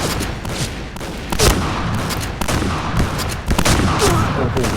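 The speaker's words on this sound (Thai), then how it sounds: "อุ้ยมันยิงเร็วขนาดนั้น ยิงเร็วเกิน" Rapid automatic gunfire in the shooter game Point Blank, dense loud bursts of shots crackling in fast succession with brief gaps, close and continuous.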